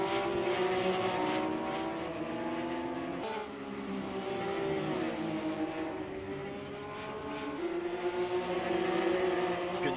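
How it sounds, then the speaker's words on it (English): Porsche Cup race car engine revving hard around the Sachsenring circuit in Germany, a loud close harmonic whine that climbs through the gears with sharp shifts, other cars droning alongside. "just hear the rev of the engine of Safir Roshandin now as he's making his way towards this fight"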